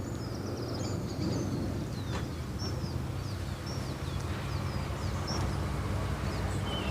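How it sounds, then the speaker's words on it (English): Outdoor bird song with several chirps and whistles scattered over a constant rumbling background, the birds fairly faint against the steady noise. "Susan, we keep hearing birds."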